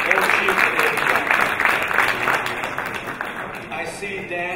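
Audience at a gala event applauding and cheering after a tribute to David Blatt, a dense steady wash of clapping that holds loud throughout, then thins slightly near the end.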